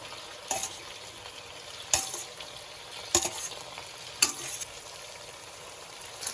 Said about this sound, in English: We're coating all the noodles with this garlic sauce.